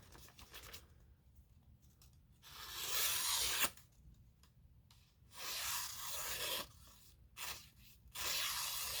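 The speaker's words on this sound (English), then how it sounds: "We can cut some paper real quick just for fun." An OSP Penguin knife with a Wharncliffe grind slices through paper in several quick, crisp tearing strokes of varying length, close and distinct with short pauses between cuts and no talking.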